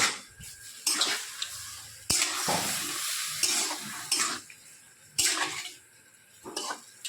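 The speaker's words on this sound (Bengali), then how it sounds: "আমি একটু নেড়ে ছেড়ে নিচ্ছি" Small shrimp chochori stirred in a pan with a spatula that scrapes the metal in repeated strokes over a soft sizzle, close by with no talk.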